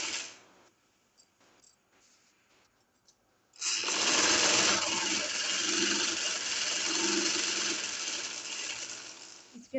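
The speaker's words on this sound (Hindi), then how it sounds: "अब हम ना अपनी फिटिंग की सिलाई लगाते हैं।" A sewing machine stitches the fitting seams of a shirt, starting after a quiet stretch with a few faint clicks and then running steadily in a fast, even whirring rattle up close.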